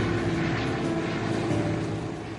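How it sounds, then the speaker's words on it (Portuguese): Fixed-wing airliner engines at takeoff thrust in Alaska, a loud, steady, continuous roar with a droning propeller-like hum and no voices, holding level throughout. "Impulso de decolagem."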